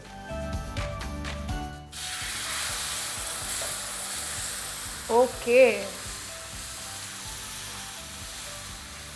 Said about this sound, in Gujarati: એકદમ છમકારો આવવો જોઈએ અવાજમાં